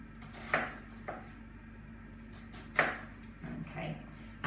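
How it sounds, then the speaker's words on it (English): Knife chopping an onion on a cutting board using a claw grip, a few sharp separate cuts spaced irregularly, fairly quiet and close, in a cookery class kitchen. "using our claw grip, we're going to cut down our onion"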